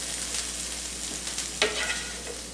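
Onions and green peppers mixed with cheese in a hot pan for a John Wayne casserole give a quiet, steady sizzle with soft stirring scrapes and one sharper clatter partway through.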